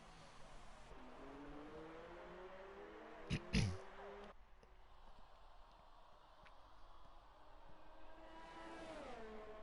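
A Formula 1 race car engine in a video game at the Canada circuit whines faintly, its pitch sweeping up and down through gear changes, with a short sharp burst near the middle.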